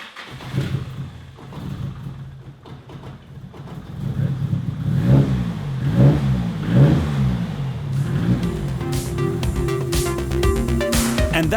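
A car engine cranks and catches after a coil and injector upgrade, then revs in several rising and falling pulses before settling into a steady, louder run close by, with no talking.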